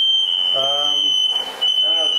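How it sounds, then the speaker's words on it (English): An alarm sounds a loud, continuous high-pitched tone while food is cooked, dropping out briefly before resuming, with a person talking over it. "The alarm went off."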